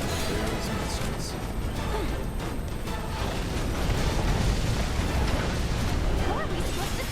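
Lasers and missiles exploding during a Final Fantasy VII Remake battle, a dense, loud wash of blasts, crashes and zaps that continues throughout and swells toward the end, with voices talking over it.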